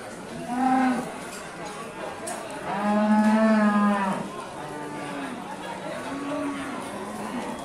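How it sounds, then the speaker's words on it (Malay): Pegon cattle mooing at a livestock market, several drawn-out lowing calls with harmonic tone, one short and two long, with faint crowd chatter behind. "Di depan saya ini ada sapi pegon."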